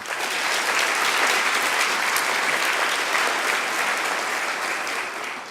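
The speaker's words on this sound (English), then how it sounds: "So give them an applause as well." Audience applause at the opening ceremony of a Model United Nations conference, honouring the organising team: dense, steady clapping from a large crowd filling the room, sustained at even loudness before easing off slightly at the end.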